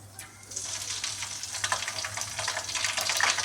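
Cumin seeds sizzle in hot oil while frying for a bendakaya vellulli karam fry, a steady bright crackling hiss close to the pan that grows slightly louder, with a low hum underneath.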